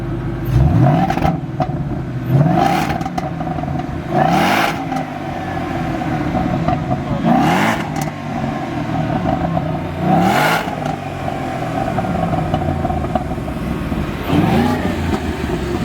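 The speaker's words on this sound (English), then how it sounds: "can you rev it up a little bit? Let me hear it. Rev it." A 2013 Mustang GT 5.0 V8 engine revs repeatedly, each rising roar climbing in pitch then falling back to a loud, rumbling idle, close by.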